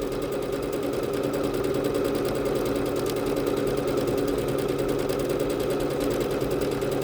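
A Bernette B-77 sewing machine runs steadily, stitching a decorative stitch with a fast, even mechanical whir and rhythmic needle ticking, close and continuous throughout.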